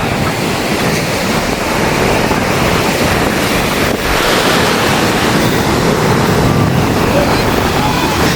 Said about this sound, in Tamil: சூப்பராக இருக்குது இந்த அலை சத்தத்துக்கு இதில் நின்று பார்க்க